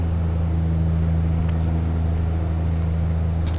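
Steady, loud drone of twin Saab 340 turboprop engines in the X-Plane 11 flight simulator during a climb toward cruise, a continuous low hum with strong tonal bands and no pauses.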